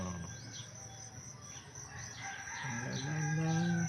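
Birds call outdoors on a fine day, with a rooster crowing and insects buzzing steadily in the background, moderately distant and fairly faint.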